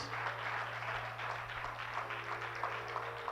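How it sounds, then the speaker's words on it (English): A church congregation at a Sunday service applauds their co-pastor, a dense, steady wash of many hands clapping at once that sounds fairly distant and soft and never breaks. "let's give her a hand clap of praise"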